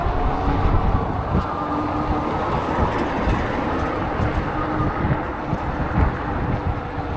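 A train rolls past outdoors during a morning e-bike commute, a loud continuous rumble and rattle of rail cars with wind buffeting the microphone throughout.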